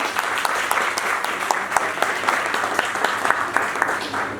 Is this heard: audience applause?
yes